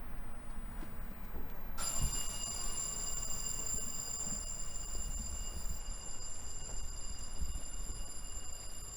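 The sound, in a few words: warning bell ringing at trolley museum substation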